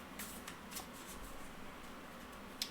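Heart-themed oracle cards, prone to sticking together, are shuffled by hand in a quiet room. Soft papery riffles come in short bursts, followed by a single crisp snap near the end.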